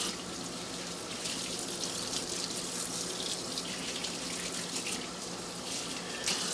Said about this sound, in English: Now at this point, we don't want to shut the faucet off